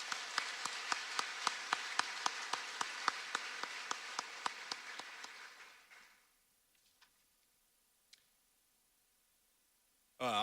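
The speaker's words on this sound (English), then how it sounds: "one more round of applause for him this evening" Applause from a crowd at a Hall of Fame induction night, loud and steady with sharp individual claps for about six seconds, then fading to near silence before an abrupt loud sound at the very end.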